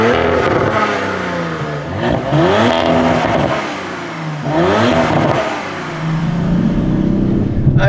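A 2023 Audi RS5 Competition Plus accelerates hard on a circuit. The engine note climbs through repeated rising sweeps, loud and close, with a brief dip between pulls as the revs build again.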